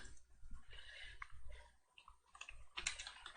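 Keys tapped in short irregular bursts on a computer keyboard while a search is entered, a faint, close clatter with small pauses and a louder flurry near the end.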